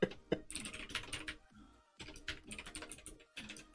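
Steady typing on a worn, old computer keyboard, with quick irregular key clicks in close bursts and a brief pause partway through.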